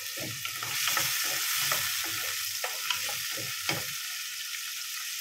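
Steady sizzling of pancetta frying in a pan until golden brown, a constant crackle with occasional stirring scrapes and pops, close and fairly loud.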